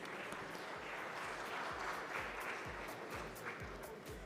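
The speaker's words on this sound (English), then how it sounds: "So let's hear a round of applause, please." An awards ceremony audience applauds, a dense, even wash of many hands clapping at moderate distance, steady throughout and quite soft in level.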